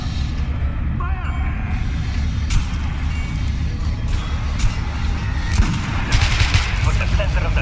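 Weapon fire in the shooter game Metro Last Light Redux, a few sharp gunshots and impacts over a rumbling game soundscape, with voices talking through it.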